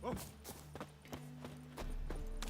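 Horse hooves in The Witcher 3 video game, a few light clip-clop steps at a slow uneven pace, faint and close under a steady low game-ambience hum.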